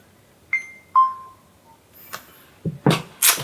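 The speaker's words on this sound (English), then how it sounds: "And I'm getting a phone call." A phone alerts with two clear electronic beeps, the second a long held tone, followed by faint clicks and short bursts of handling noise, fairly close and with no one speaking.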